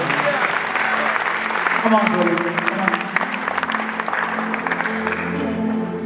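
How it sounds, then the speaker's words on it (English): A church congregation claps for Jesus at a Holy Ghost gathering in Washington, D.C., steady rhythmic clapping beneath a preacher's loud voice and scattered shouts of encouragement. "Somebody clap for Jesus."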